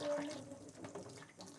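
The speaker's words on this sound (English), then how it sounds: "and give the whole thing a good rinse" Lukewarm tap water runs from a faucet to rinse overwintered chilli plants, a soft, close, steady flow lasting under two seconds with faint voices underneath.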